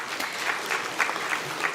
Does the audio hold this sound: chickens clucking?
no